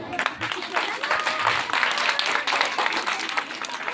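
An audience at an Independence Day speech event breaks into dense, steady applause, many hands clapping at once throughout, heard at moderate loudness with some voices mixed in.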